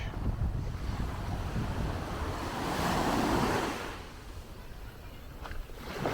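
Ocean waves washing onto Lindquist Beach near Smith Bay, St Thomas, a continuous broad surf rush swelling midway, with heavy wind buffeting the microphone throughout.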